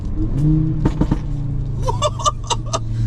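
Exhaust crackles and pops from an Audi RSQ3 with a catalytic converter fault, a series of sharp bursts over a low idling engine rumble, close by.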